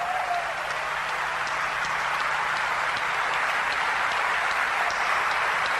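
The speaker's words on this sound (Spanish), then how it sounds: "Este aplauso, tu aplauso, es para ellos." A large audience applauding continuously, a dense, even wash of clapping sustained throughout, moderately loud and unbroken by speech.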